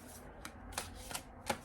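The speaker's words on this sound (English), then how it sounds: "I have to shuffle this in halves because it's too big." A large tarot deck is riffled in halves up close, giving quick papery bursts of flicking cards in a soft, fairly quiet run with no talking.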